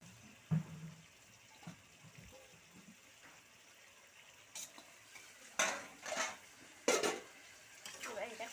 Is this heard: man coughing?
no